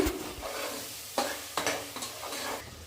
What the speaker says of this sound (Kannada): ತರಕಾರಿ ಎಲ್ಲ ಎಣ್ಣೆ ಬಿಡೋವರೆಗೂ ಹುರ್ಕೊಳ್ಳಿ